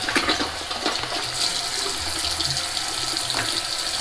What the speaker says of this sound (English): Alright, I'm going to wash my face first.